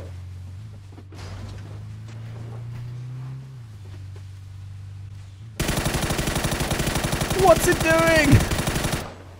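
Rapid suppressed Mutant rifle fire from PUBG rattles in a dense, continuous burst during the second half, preceded by quieter game ambience; a voice speaks briefly over it.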